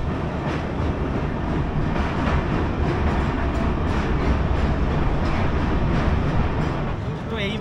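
A moving passenger train on the Kolkata to Daringbadi route rumbles steadily from inside the carriage, a loud continuous roar with faint rhythmic clatter throughout.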